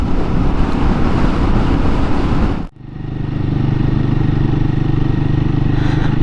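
A Royal Enfield Guerrilla 450 motorcycle cruising at a steady engine speed near 4,000 RPM, a continuous loud drone of engine and wind that drops out briefly mid-ride before the steady hum resumes.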